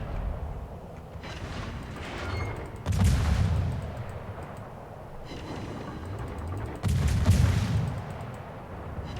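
Battleship main guns firing in World of Warships, two heavy booming salvos a few seconds apart, each a loud blast trailing into rumble over a low background of engine and sea noise.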